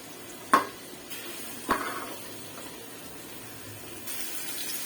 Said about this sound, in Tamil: எண்ணெய் போட்டு வெங்காயம் போட்டுட்டேங்க, நல்லா வதக்கட்டும்